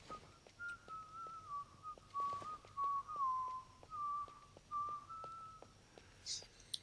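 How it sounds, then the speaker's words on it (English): A character in the video game James Bond 007: Blood Stone whistles a wandering tune in a series of short phrases, moderately clear over quiet ambience and soft footsteps. "Man, that sounds like piss-taking whistling."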